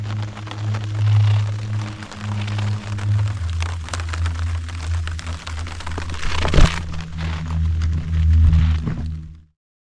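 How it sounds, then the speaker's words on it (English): Rain patters steadily on a tent along the Appalachian Trail near Allen Gap, a close, dense drumming with occasional heavier drops and a sharp burst partway through, ending abruptly. "Alright, starting to rain."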